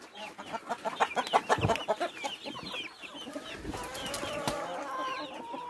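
Hens clucking and chattering in a farmyard, with a flurry of wing flapping partway through; several birds sound close and fairly loud, with no talk over them.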